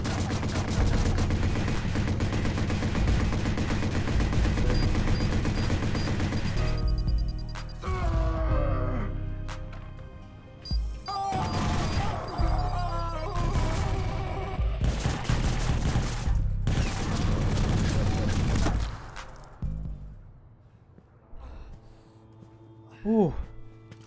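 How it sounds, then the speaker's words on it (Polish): Machine gun fire in the Watch Dogs video game, dense bursts of rapid shots with crashes over the first twenty seconds, a short gap near the middle, with someone talking over the shooting. "Seria 11 strzałów z karabinu maszynowego w klatkę."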